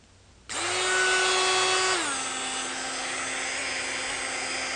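A Dremel rotary tool spins up to a high steady whine while cutting a key, dropping to a slightly lower pitch as the bit bites into the metal; close, continuous, no talking.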